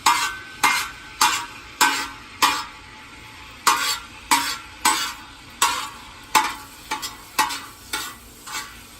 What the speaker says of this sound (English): I want the garlic to just start browning.